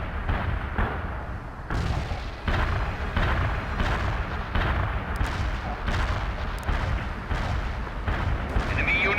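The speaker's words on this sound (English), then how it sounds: "Fire mission received. Artillery barrage inbound." Artillery barrage in the video game World in Conflict, a rapid series of heavy booming impacts and explosions about once a second, loud and rumbling, with a radio voice faintly mixed in.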